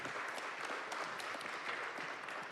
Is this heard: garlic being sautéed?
no